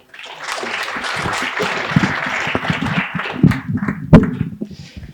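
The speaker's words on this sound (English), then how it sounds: "Give a round of applause to Joe." Applause from an audience at a college career pathways summit, a moderate crowd clapping for several seconds with a few louder close claps before dying out.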